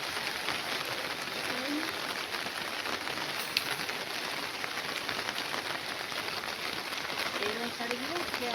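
Heavy rain pours down in a dense, steady hiss, with faint voices murmuring in the background.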